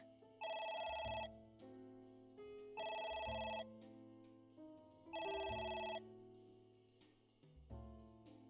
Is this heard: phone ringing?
yes